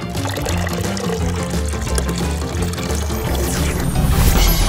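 Golden mermaid water is poured for a bath, a steady close liquid fill with trickling over dense background music, swelling louder near the end.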